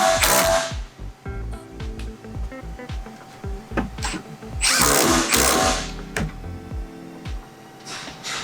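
Bolts on a Tesla Model 3 sway bar are run down with a power tool, rapid ratcheting bursts and short whirring pulses repeating in quick succession close by, with a few louder bursts between them.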